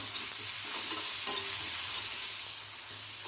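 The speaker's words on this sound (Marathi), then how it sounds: "अर्धा चमचे जिरे टाकायचे आता थोडं परतून घेऊन गॅस बंद करून घेऊया" Cumin seeds and peanuts sautéing in a pan for a peanut thecha, giving a steady, soft sizzle with light stirring throughout, close and even in level with no talking.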